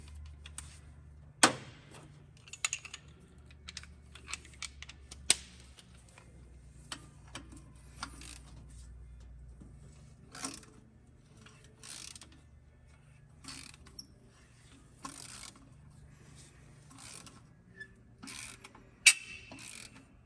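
A ratchet wrench works on the intake of an International Scout II during disassembly, faint repeated clicking strokes in irregular bursts with occasional sharp metallic knocks and a low hum beneath, no talk.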